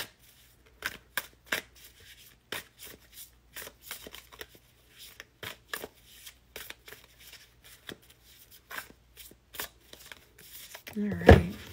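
Tarot cards are shuffled by hand, a series of soft crisp riffles and taps at a steady pace, ending in a louder thump, with a voice speaking at moments.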